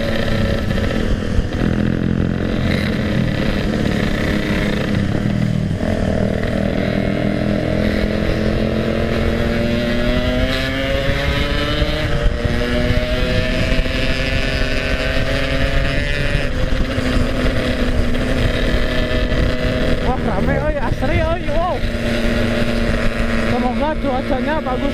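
A Yamaha RX King two-stroke motorcycle revving while riding, a loud buzzing engine note that rises and falls through gear changes over steady wind rumble, heard close from the rider's position.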